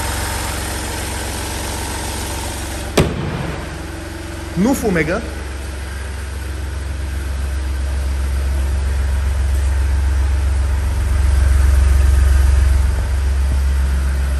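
Small Smart car engine idling, a steady low rumble with faint vibration that holds throughout, swelling slightly near the end, while a person speaks briefly over it and a sharp knock sounds early on.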